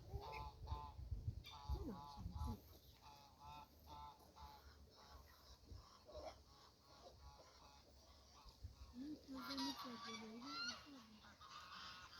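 Several geese in a park honk repeatedly at close range, their calls overlapping in bursts, with a quieter stretch before another group of honks near the end.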